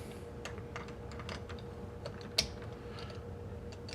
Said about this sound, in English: You can turn this little knob to get it to fit in